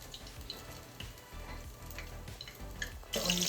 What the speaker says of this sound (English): We're going to let these go for about, like I said, about a minute on each side.